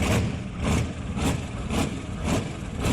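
A European turbo diesel truck reportedly fitted with three diesel engines idles loudly and roughly right after a cold start, a deep rumbling drone pulsing in a steady rhythm about twice a second, close and continuous with no talking.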